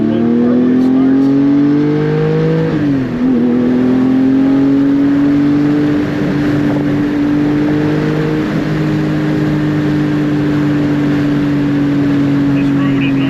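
A car engine drones loudly and close with a deep, throaty exhaust, rising in pitch as it revs through a gear change, then holding a steady pull, on a road during the 2025 Petit Le Mans.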